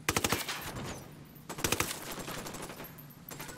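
Automatic machine gun fire in the tactical shooter Ghost Recon Wildlands, set in Bolivia, comes in two rapid bursts of sharp, loud shots separated by a quieter gap filled with low rumble.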